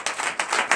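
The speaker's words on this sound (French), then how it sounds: "Donnez l'acclamation de Jésus." Members of a church congregation clap for Jesus during a Sunday service in a brief run of loud, close claps, three or four strong hits in under a second.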